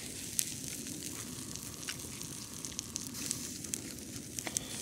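Marinated tri-tip sizzling over an open pit fire while being basted, a steady close crackling hiss with scattered small pops and snaps.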